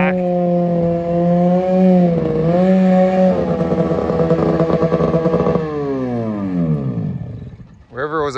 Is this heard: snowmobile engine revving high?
yes